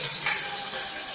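Water runs and splashes as it is poured into a pot for boiling pasta, a brief, close, steady gush lasting about a second.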